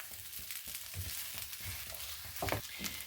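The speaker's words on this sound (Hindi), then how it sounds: "और इस स्टफिंग को हम अच्छे से भून लेंगे।" Potato stuffing for masala dosa sizzles and fries in a pan while being stirred, with a soft steady crackle and occasional scraping, faint and close with no talking.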